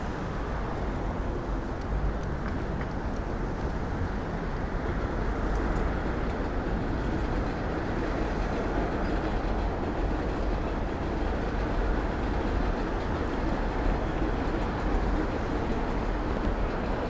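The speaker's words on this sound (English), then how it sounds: "listen for the subway as it passes by" A subway train runs along an elevated structure in Queens, New York City, a smooth, steady rumble that fills the whole stretch without clear clatter. It stays continuous and moderately loud throughout.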